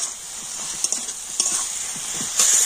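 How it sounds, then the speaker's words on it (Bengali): Fried potatoes cooking with spices in a pan, a bright continuous sizzle close up with a few light stirring taps and scrapes. "আর এবার আমি ভেজে রাখা আলুটা দিয়ে দেব। তো আলুর সাথেও মশলাগুলো একটু কষে নেব।"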